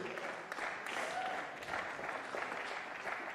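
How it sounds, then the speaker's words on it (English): An audience at a squash league match claps in welcome for the visiting Rotterdam team, a steady, moderately loud round of applause that continues throughout. "Big round of applause to Rotterdam, please."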